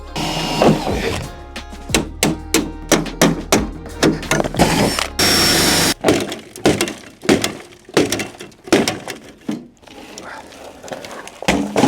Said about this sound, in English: drilling out the rivets